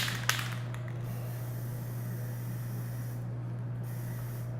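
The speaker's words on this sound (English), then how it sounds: "It's starting to spray really sketchy." An aerosol spray paint can nearing empty gives a steady, close hiss over a low electrical hum, with a brief sharp burst near the start and no clear sputtering beyond that.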